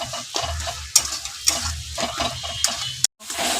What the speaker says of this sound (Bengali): ভালো করে কষিয়ে নেবে। যতক্ষণ তেল না ছাড়ছে ততক্ষণ কষিয়ে নেবে।